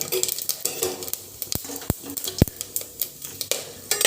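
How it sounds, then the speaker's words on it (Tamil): Cinnamon, cloves, bay leaf and fennel seeds sizzle in hot oil for coconut milk rice, with a soft steady crackle and scattered sharp clicks of a spoon against the pan. "நம்ம வந்து பட்டை, லவங்கம், பிரிஞ்சி இலை, கொஞ்சமாக சோம்பு, இது எல்லாத்தையுமே நம்ம வந்து எண்ணெயில் போட்டுக்கலாம்."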